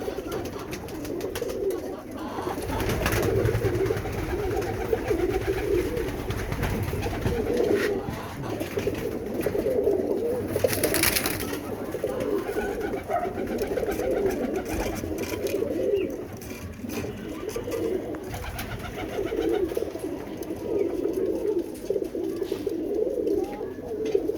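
Roller pigeons coo steadily inside a loft, with many overlapping throaty calls forming a continuous close murmur, plus occasional wing flutters and rustling.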